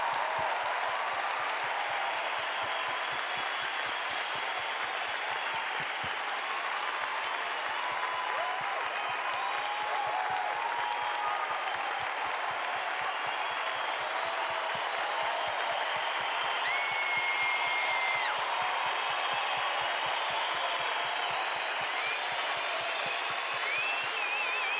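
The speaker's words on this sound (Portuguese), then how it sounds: "Primeiro, vamos aplaudir cada voluntário aqui nesse lugar." Large conference crowd applauding volunteers at a church event, steady dense clapping with some cheering and whistles sustained throughout, somewhat distant and even in level.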